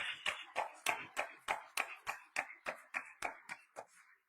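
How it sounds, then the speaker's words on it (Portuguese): In a church during Mass, a congregation claps in a steady, even rhythm, about fifteen sharp claps over a few seconds, fairly close and alone, fading at the end. "Eu gostaria uma salva de palmas para todos os pais que estão aqui presentes."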